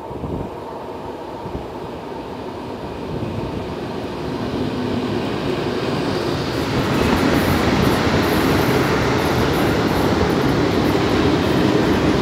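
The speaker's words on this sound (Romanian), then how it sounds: "alt tren." Another train passes through the Prahova Valley at Sinaia, a broad rail rumble that swells from moderate to louder and holds steady, with faint clickety-clack and a high metallic whine later on.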